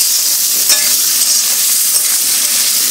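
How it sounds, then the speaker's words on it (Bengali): Spice paste of turmeric, chilli powder, cumin powder and ginger paste frying in a pan for Bengali yellow rice, a loud continuous sizzle with bright hiss and occasional scraping from stirring, steady throughout with no talking. "এগুলো দিয়ে বেশ খানিকক্ষণ নাড়াচাড়া করার পর মশলাটা কষা হয়ে গেলে"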